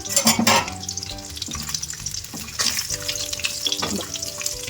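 Fish frying in oil in a pan: a steady, fairly close sizzle with bursts of stirring and clattering, a loud flare at the start, over a soft tonal background.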